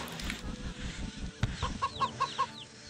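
Chickens clucking in a Shrek game on Xbox: a run of short, quick clucks in the latter half, fairly close and distinct, after a stretch of muffled low rumbling and a single sharp thump.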